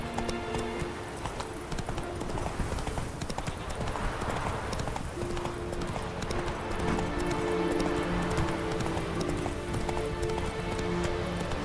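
Roach the horse's hooves clop in a steady, continuous rhythm in The Witcher 3, fairly close and loud throughout, with a faint tonal game soundscape underneath.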